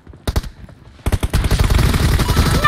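Gunfire in the mobile shooter PUBG Mobile: a couple of sharp single shots, then a rapid automatic burst that runs on, loud and close.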